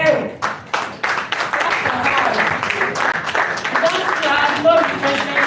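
Audience applause at a real estate networking event, dense sustained clapping filling the room with people talking and calling out over it.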